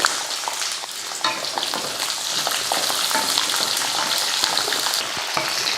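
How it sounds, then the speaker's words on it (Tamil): Curry leaves, onion and garlic sauté in a pan with a loud, dense crackling sizzle, close up and continuous, broken by faint stirring scrapes. "கூடவே கருவேப்பிலை, வெங்காயம், பூண்டு சேர்த்துருவோம்"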